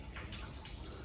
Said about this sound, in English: A lot of water pouring in on the north side of the house.